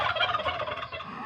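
Domestic turkeys gobbling in a farmyard flock on a rural Philippine farm, a dense, continuous chorus of overlapping warbling gobbles held close and fairly loud for the whole stretch, with no voices over it.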